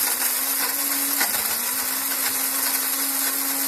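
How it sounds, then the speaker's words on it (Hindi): A mixer grinder whirs steadily as it grinds whole spices into powder for nihari, a loud, close, continuous motor drone with a slight pitch dip near the start and no speech. "इसके बाद आप ग्राइंड कर लें।"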